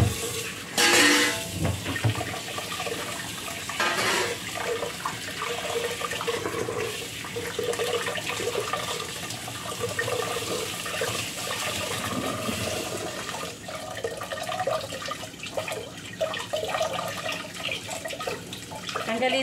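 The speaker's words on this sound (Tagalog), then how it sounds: "Change natin yung water. Okay, hugasan natin yung ating meat." Meat for a carrot and radish soup is washed under running water, a steady rushing flow with splashing and a louder gush near the start, a voice faintly present beneath.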